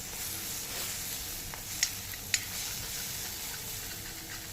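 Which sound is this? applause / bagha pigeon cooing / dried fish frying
dried fish frying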